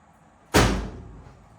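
Clothes dryer door shut during a door switch test, a single sharp slam with a short rattling decay in a quiet room.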